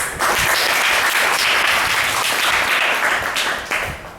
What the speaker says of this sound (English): Let us invite them with a great round of applause.